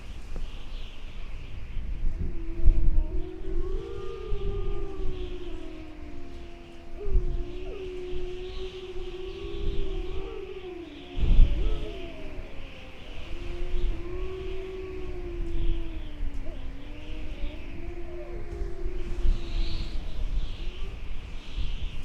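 Several long wavering howls overlap and rise and fall together, a chorus of wolves calling at moderate distance in winter in Yellowstone National Park, with a steady background hiss.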